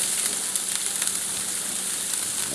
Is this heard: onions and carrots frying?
yes